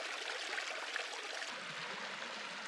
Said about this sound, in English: This is Tank 7 Creek.